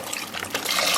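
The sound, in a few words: bone broth and water being poured into a pot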